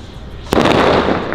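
A sharp pop followed by a loud sustained hissing whoosh as a firework rocket launches close by.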